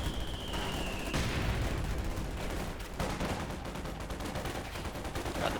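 Gunfire and mortar rounds in the video game Company of Heroes 2 crackle in rapid, dense bursts, with sharp impacts and continuous battle noise close up.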